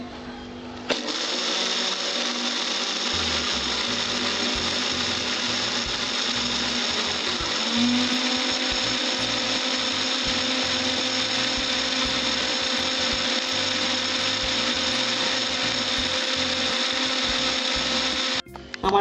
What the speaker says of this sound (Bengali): এবার আমি মিক্সিতে পেস্ট করে নিচ্ছি।